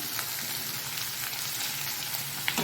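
Capsicum and mushrooms sautéing in a kadai for mushroom kadai gravy give a steady, even sizzle of frying that holds throughout, with a faint clink near the end.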